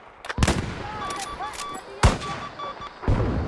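Sharp, scattered gunshots ring out in a Battlefield V sniper match, three or four loud reports spaced apart over electronic game tones, with brief voice in between.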